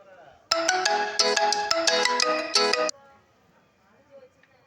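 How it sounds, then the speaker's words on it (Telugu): A loud electronic phone ringtone plays a quick melodic pattern for a couple of seconds, then stops abruptly, leaving quiet room noise. "సారీ గైస్, ఫోన్ వచ్చింది."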